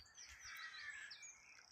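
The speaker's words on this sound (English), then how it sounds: "natural sounds of the wildlife, the birds." Birds sing and chirp on a nature walk in Scotland, several bright overlapping warbles and tweets, faint and somewhat distant against quiet surroundings.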